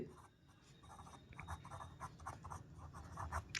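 Pen scratching across paper while a maths solution is written out, soft, close strokes in short irregular bursts, faint and alone.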